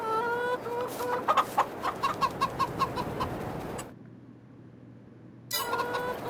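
Chickens cluck in a pen on a farm in the video game Farming Simulator 22. A steady run of clear clucks comes through close and loud, then drops out for a moment and returns abruptly.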